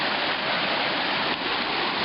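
A mountain stream rushes and splashes in a steady, dense hiss, close and constant with no voices.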